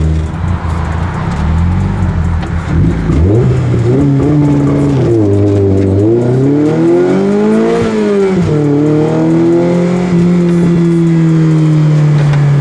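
An Opel car, fitted with its original engine computer, pulls away from a standstill, its engine revving up through the gears in rising and falling sweeps. The sound is loud and close and continuous, with no talk.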